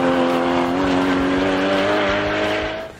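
A 2015 Porsche Cayman 981 GT4 flat-six engine holding a loud, smooth rising howl toward 7,400 rpm with strong harmonic tone, then easing off at the end.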